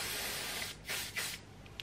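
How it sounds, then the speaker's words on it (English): Sam McKnight styling spray mists onto hair in a few short, soft hissing bursts, quiet and close with no talk. "This is the Sam McKnight"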